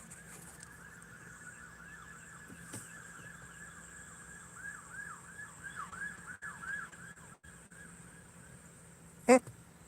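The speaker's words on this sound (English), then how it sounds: "I hear sirens." Emergency vehicle sirens outside, a faint wailing siren sweeping up and down repeatedly in the distance, with a brief sharp knock near the end.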